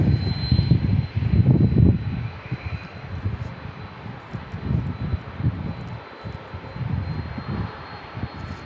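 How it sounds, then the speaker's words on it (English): A Hawaiian Airlines Airbus A321neo jet from Honolulu rumbles at San Diego International Airport, its low engine roar rising and falling in gusty pulses with a faint steady whine above. "Hawaiian Airlines, A321neo from"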